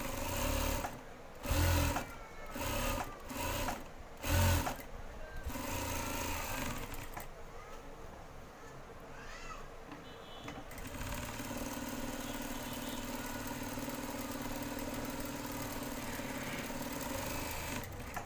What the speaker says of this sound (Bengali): দুইটা সেলাই দিয়ে বন্ধ করে দিলাম